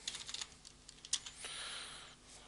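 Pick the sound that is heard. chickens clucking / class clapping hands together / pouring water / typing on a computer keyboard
typing on a computer keyboard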